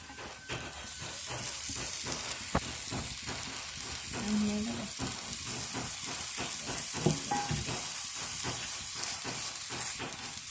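Grated coconut fries in hot coconut oil in a pan, giving a constant close sizzle with scattered crackles and faint stirring scrapes throughout, no talking.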